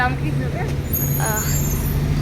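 Large oil-well trucks passing on a road while people talk nearby: a loud, close engine rumble with a steady low hum and a brief hiss, heard under conversation.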